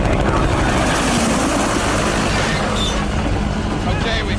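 A medical evacuation helicopter flies over hostile territory in Vietnam, 1966–1967, its loud rotor and engine roar filling the cabin continuously, with a voice talking over it.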